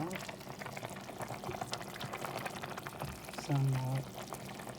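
Broth is poured into a bowl of pancit sotanghon, a Filipino glass-noodle soup, in a home kitchen, giving a short close liquid splash under steady background noise while someone talks.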